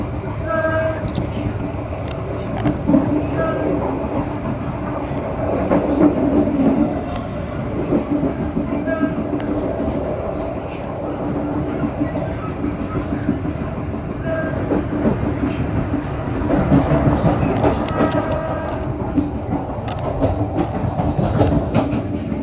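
The Motis Selatan passenger train travels from Jakarta to Madiun, heard from inside the carriage as a steady loud rumble with rhythmic wheel clatter and occasional squeals throughout.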